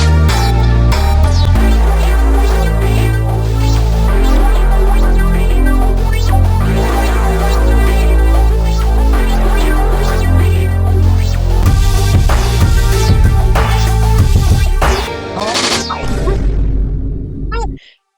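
Experimental trap beat, dense and loud with heavy bass, switching partway through to a new section before cutting out near the end.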